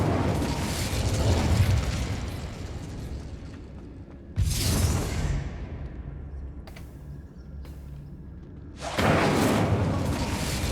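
Incendio fire spell cast in a wand-mastery video game, three loud fiery bursts, each a sudden whooshing blast that fades out, separated by quieter pauses with faint rumbling.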